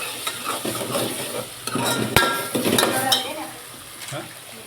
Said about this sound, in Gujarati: બરાબર મિક્સ કરીએ.